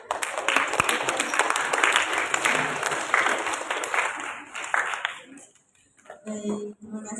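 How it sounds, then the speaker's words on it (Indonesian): An audience at a school debate final claps in a dense, sustained wave of applause for about five seconds before it dies away, followed by a brief burst of speech. "Boleh dong dikasih tepuk tangan sekali lagi buat kedua tim yang berhasil."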